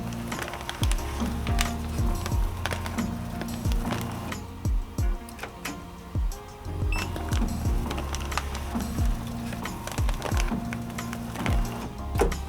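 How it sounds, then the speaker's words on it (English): A Ricoma embroidery machine moves its frame to trace a design outline, producing a mechanical whir with repeated clacks and motor tones in an uneven rhythm, close and fairly loud. "First thing we're gonna do is trace the design. So it's gonna outline the area that we're gonna be stitching on."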